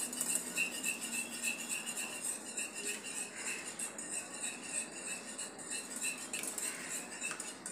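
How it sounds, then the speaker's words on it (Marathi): Eggs are cracked into a bowl and beaten, with a steady quick tapping and clinking of utensil against the bowl, close and fairly quiet, with no talking. "आता याला आपण फोडून मिक्स करून घेऊया। हे चांगले आपल्याला फेटायचे आहे।"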